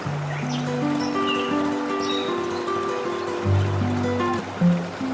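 A flowing river, the Sungai Sempor in Yogyakarta, produces a steady broadband rush of water across the whole stretch. Sustained musical tones sit over it, with a slightly fuller surge near the end.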